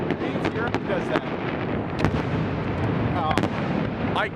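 Loyalist Day fireworks in Saint John, New Brunswick, burst continuously near the finale, dense booms and crackles with whistling trails rising over a steady din and occasional crowd voices.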